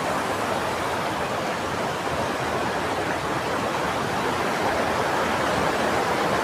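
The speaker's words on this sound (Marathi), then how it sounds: "सुंदर वाहणारी नदी." A river in Dapoli, Konkan, flowing steadily with a dense, even wash of water noise, constant and moderately loud throughout with no voices.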